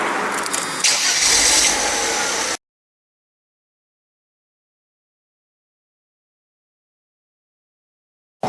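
Engine of a Mercedes-Benz R129 roadster cranking and catching, then running briefly before warming its oil; a loud burst of mechanical noise lasting a couple of seconds, followed by a long silence and a brief return of sound at the end.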